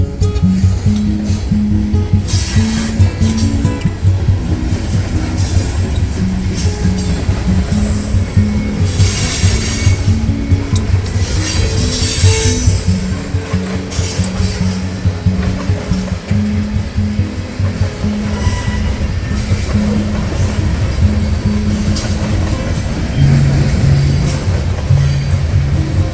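A freight train including an old Southern Pacific boxcar rumbles past nearby, loud and steady, with rhythmic wheel clatter, some metallic squeal and clanking over the continuous roar.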